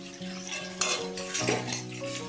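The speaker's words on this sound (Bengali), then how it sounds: "মশলাটা আমি ভেন্ডি আলুর সঙ্গে ভালোভাবে মিশিয়ে নেব।" Okra and potatoes being stirred in a pan with a ground paste of cumin, black pepper and green chilli: close utensil scrapes and metallic clinks over a faint sizzle.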